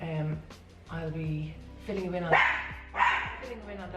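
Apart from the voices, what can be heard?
small teacup-size dog barking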